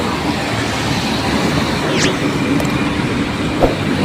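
MRT 7 train passing at the Pasong Putik construction area in Quezon City, a loud, steady rumble and wash of noise with a brief squeal midway and a faint knock near the end, no talking.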